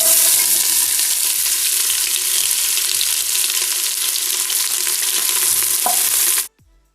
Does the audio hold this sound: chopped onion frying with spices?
yes